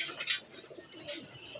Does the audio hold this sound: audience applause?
no